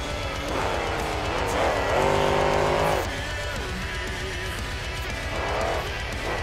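Monster truck in the BeamNG.drive video game at a freestyle competition at Lincoln County Fairgrounds, its engine roaring steadily with rising revs and a louder surge midway, heard alone without talk.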